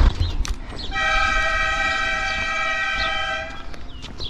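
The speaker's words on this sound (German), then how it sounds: "Die hupen immer fleißig und kündigen sich an." A bread delivery vehicle honks its horn in a Galician village: one long, steady, loud blast holding for about two and a half seconds, with rumbling outdoor background before and after.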